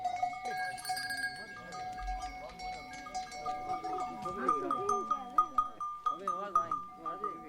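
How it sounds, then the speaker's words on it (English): Flock of sheep and goats moving along a path near Bikaner, Rajasthan, with bleats rising repeatedly over a steady background of shuffling and ambient noise, growing busier toward the end. "Locals share the path with flocks of sheep, happy to follow the directionally confident goats"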